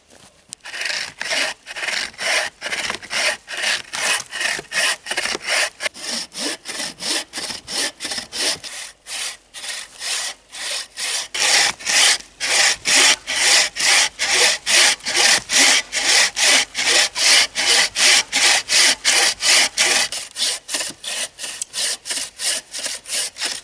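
A bucksaw cuts a piece of firewood in steady back-and-forth strokes, each rasping pass close and loud, with a brief lull mid-clip before the rhythm picks up slightly faster.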